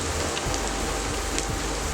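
Chopped onion sizzles in a pan over a full gas flame, giving a steady, dense, crackling fry that stays loud and even throughout, with no voices.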